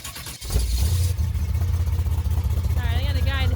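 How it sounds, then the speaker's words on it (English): A high-horsepower Camaro V8 race engine starts and idles with a deep, loud, lumpy rumble that pulses rhythmically, a throttle blip near the start, and a person talking over it toward the end. "Give it a little gas."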